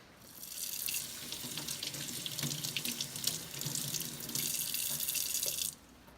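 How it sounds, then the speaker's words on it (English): Running tap water rinses a removable coffee maker part under a sink faucet, a steady close splash that holds for about five seconds before cutting off, with no talking. "We're going to rinse this."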